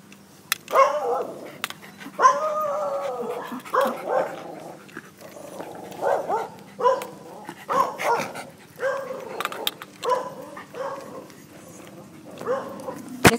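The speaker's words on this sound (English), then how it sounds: "There's a dog." Outdoors in a winter valley, a dog barks and whines repeatedly at close range in uneven bursts, with a steady low hum underneath.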